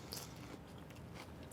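Someone bites into a crunchy quinoa lettuce wrap with peanut sauce, giving a brief, soft crisp crunch and chewing, close and quiet, with no talk.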